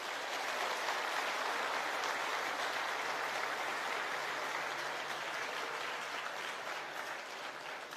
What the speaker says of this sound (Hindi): संदीप भाई के लिए तालियां बजा दीजिए एक बार